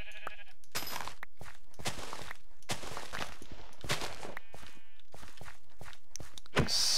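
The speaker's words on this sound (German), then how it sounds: "Ich tue mal noch Schafe töten hier." Sheep being killed in Minecraft 1.11 give repeated short hurt bleats mixed with sharp hit thuds and footsteps, all fairly quiet and spread across the stretch.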